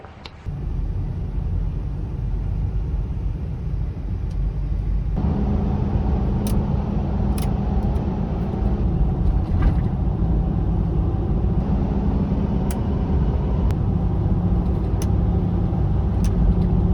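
A Toyota 4Runner or Tacoma driving on a road, with a steady engine drone and low road rumble that thickens after the first few seconds and carries on to the end, broken only by a few faint clicks. No one speaks.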